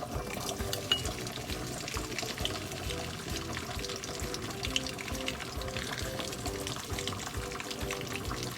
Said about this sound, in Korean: 팬이 뜨거워지면은 기름을 넉넉하게 눌러줍니다.